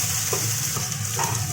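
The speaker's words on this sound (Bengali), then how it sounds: "এটাকে তো হালকা হাতে ভেজে নিয়ে" Chillies, ginger and garlic fry in a pan with a steady sizzle and light stirring scrapes, close and alone.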